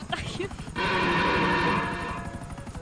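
A helicopter's steady mechanical whir kicks in abruptly and holds, loud and close, after a moment of game noise and scattered sounds.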